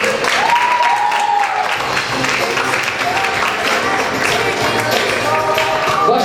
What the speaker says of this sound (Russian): Ваши аплодисменты, Эльмира Калимуллина.